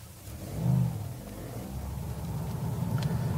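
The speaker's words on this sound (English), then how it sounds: "Fire the engine and there's a deep but potent clatter." A 2021 Toyota GR Yaris hot hatch engine fires up and settles into a deep, clattery rumble, swelling briefly after the start, then holding a steady, close idle with no talk over it.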